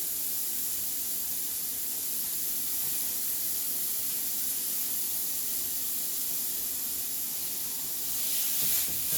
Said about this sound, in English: And we are going to drop our burgers into the pan.